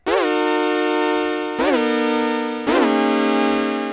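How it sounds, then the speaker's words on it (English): Bright, buzzy synthesizer tones sustained in three long notes, each opening with a brief filter sweep modulated by a slow LFO before settling, loud and close. "You can hear that LFO 2 is set much slower than LFO 1"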